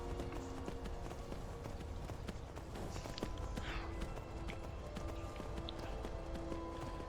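Steady clip-clopping of horse hooves in Skyrim, running rhythmically under continuous background music and ambient noise.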